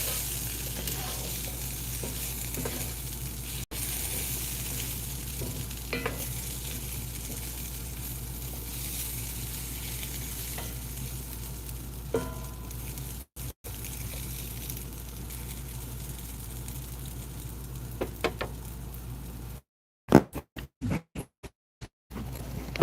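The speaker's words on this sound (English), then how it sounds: "the potatoes are gonna fucking burn! They're gonna burn! Who's gonna stir them?" Potatoes fry in a pan with a steady wet sizzle and occasional scraping stirs, close and continuous, before the sound breaks up into brief clattering cuts near the end.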